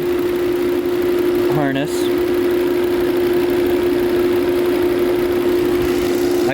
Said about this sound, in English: Here you go, you can see the engine jumping.